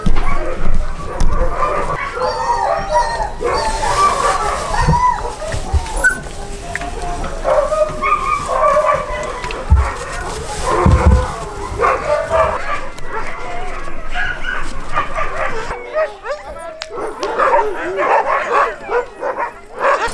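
A chorus of sled dogs barking and yelping continuously in a dog yard in Arctic Norway, many animals at once, with some whining, loud and busy throughout.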